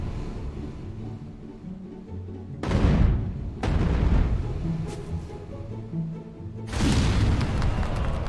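Barrels blowing up in a video game, a speedrun of an outdoor logistics game, give three loud booming blasts in quick succession, each a broad burst that decays into rumbling over continuous game noise.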